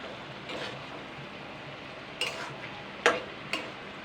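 Maggi masala stirred in a pan while cooking lau (bottle gourd), soft faint scrapes and a few sharper clicks of the spoon against the pan over a quiet low sizzle.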